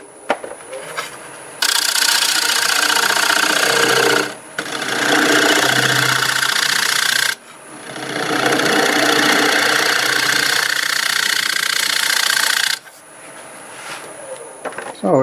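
Wood turning scraper with a freshly raised burr cutting a rough-turned wooden bowl on a lathe: loud, steady rasping scrape in two long passes separated by brief pauses, with the lathe humming underneath.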